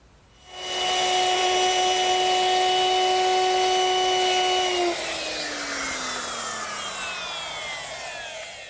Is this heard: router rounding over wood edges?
yes